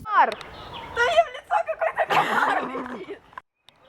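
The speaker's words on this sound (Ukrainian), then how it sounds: "Подожди, там какие-то куропатки на фоне." Partridges call in the background outdoors, a run of short clucking, chattering notes rising and falling over about three seconds, fairly near and clear, then fading to quiet.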